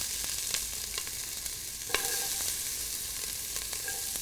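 Onions frying in shimmering, lightly smoking olive oil in a hot large pot, a dense steady hiss with a few sharp pops and spoon scrapes, close and alone.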